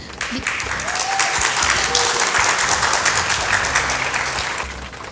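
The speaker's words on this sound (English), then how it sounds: "A round of applause for the French School." An audience applauds a school team at a competition match, steady dense clapping that holds loud for about five seconds before easing slightly, with no speech over it.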